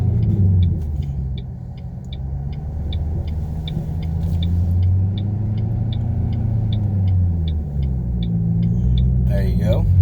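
A manual Ford Shelby GT500 pulls away from a stop, its engine rumbling low and steady up close throughout, with a rhythmic ticking in the background and people talking inside the car.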